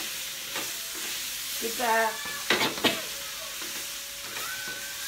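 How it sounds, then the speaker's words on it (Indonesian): Chicken woku, Manado style, frying in a pan with chilies, steady sizzle under scraping stirs and clinks of a utensil, close by, with a brief spoken word. "aduk terus ya sampai itu udah agak rada kegoreng kelihatannya"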